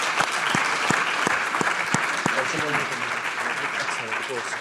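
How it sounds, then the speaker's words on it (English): A conference audience at the BC4EU 2025 business gathering breaks into a dense, sustained round of applause, with a few sharp nearby claps standing out; a voice speaks over the clapping toward the end. "join me in a round of applause"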